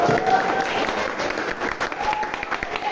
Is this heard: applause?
yes